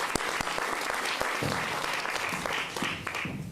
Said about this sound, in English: let's just give them a big round of applause.